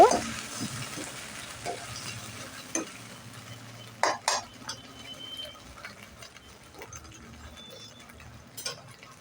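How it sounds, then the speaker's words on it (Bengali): A spoon stirs soybean chilli in a pan just after a prepared sauce is poured in, making close scraping and knocking strokes over a soft sizzle, with louder bursts of stirring around the middle. "সসটা ঢেলে দেওয়ার পর এটাকে ভালো করে একটু নাড়াচাড়া করে নেব"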